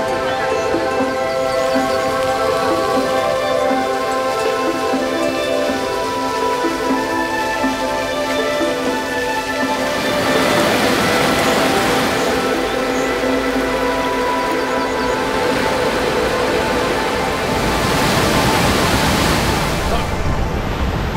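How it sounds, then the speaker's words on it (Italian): A waterfall where a hot-spring river running down from a volcano near Ahuachapán, El Salvador ends, giving a steady, loud broadband rush of falling water that swells in surges; a voice and a tonal hum sit under it early on. "C'è questo fiume che scende direttamente l'acqua dal vulcano fino a terminare in una cascata, come vediamo qui"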